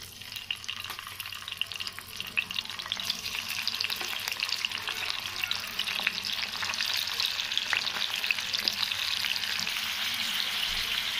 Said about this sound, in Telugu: దీన్ని ఆయిల్లోకి వేసేద్దాం. ఓకే? Oil heat ఎక్కిందండి.